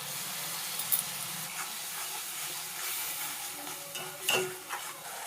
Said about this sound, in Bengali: মশলাটা ভালো করে কষাতে হবে 2-3 মিনিট ধরে।